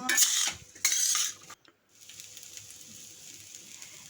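Leftover rice and other ingredients stir-fried together in a pan, with a spatula scraping and clattering in two loud bursts before settling into a soft, steady sizzle.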